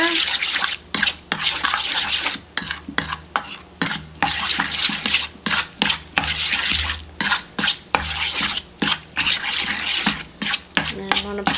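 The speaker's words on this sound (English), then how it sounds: "And some mustard, just regular old yellow mustard. Give it a stir." Yellow mustard being stirred into old-fashioned egg salad in a bowl, a close run of repeated scraping, tapping utensil strokes against the dish in an irregular rhythm, with no talking.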